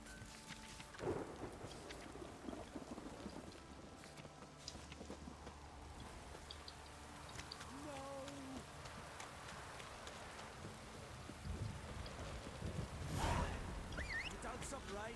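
Rain falls steadily on the ground in The Witcher 3 video game, with rolling thunder rumbling in the distance. The thunder swells to a louder peak near the end, and faint voices come through now and then.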